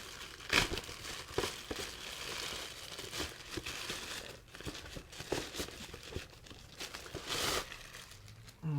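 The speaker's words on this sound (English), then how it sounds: "I'm going to cut it open and pull out the box" Crinkling plastic and cardboard as a package holding an FA400 clone soldering fume absorber is cut open and its box pulled out, with repeated rustling, tearing and crunching bursts close by and no talk.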